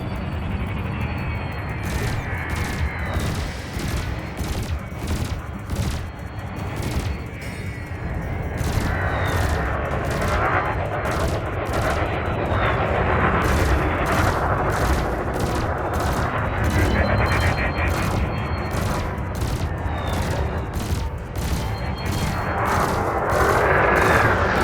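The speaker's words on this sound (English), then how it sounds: "your burst laser is a thermal weapon, which excels at stripping away a target's shields" Rapid bursts of burst laser fire from a ship in Elite Dangerous, loud close-up volleys of repeated shots in clustered rhythm, continuing steadily over a dense rumbling space-combat background.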